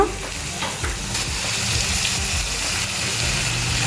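Boneless chicken pieces frying in masala on a high flame for a chicken masala curry, a loud close sizzle that stays steady throughout with stirring scrapes mixed in.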